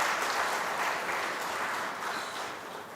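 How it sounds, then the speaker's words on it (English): Steady audience applause at a foundation day oration for a visiting vice president, a broad even wash of clapping that slowly fades, with no talk over it. "A big round of applause for him."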